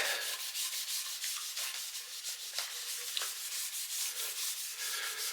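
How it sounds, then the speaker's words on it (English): Oil finish rubbed by hand into the wooden body of a Telecaster kit guitar, a steady, close scrubbing and rubbing with a regular back-and-forth rhythm, continuous for several seconds with no talk. "I'm going to continue rubbing that in"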